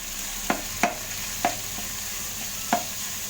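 Ground beef sautéing in a pan, menudo style, a soft steady sizzle with four distinct spatula knocks spaced irregularly, close and fairly quiet.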